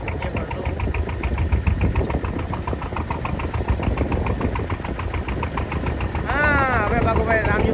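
A fishing boat's engine runs steadily nearby with a rhythmic, chugging pulse throughout, and a voice is heard over it near the end.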